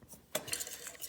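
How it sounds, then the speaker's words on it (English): A utensil stirs cocoa powder in a bowl, giving quick scraping and clinking strokes up close, with a sharper burst of metal-on-bowl scraping partway through. "Stir it up."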